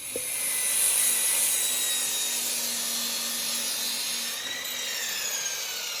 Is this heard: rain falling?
no